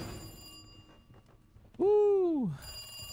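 A telephone rings once in the video game Resident Evil 2 Remake, a single loud, clear tone that bends up and down and stands out against quiet game ambience.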